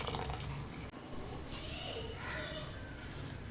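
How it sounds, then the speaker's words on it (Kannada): Water poured from a mixer jar into a pressure cooker, a steady close splashing stream lasting a few seconds with faint voices in the background. "ಸೊ ಇದಕ್ಕೆ ಅದೇ ಜಾರಲ್ಲಿ ನಮ್ಗೆ ಎಷ್ಟು ಬೇಕು ಅಷ್ಟು ನೀರು ಹಾಕ್ಕೊಳ್ಳೋಣ"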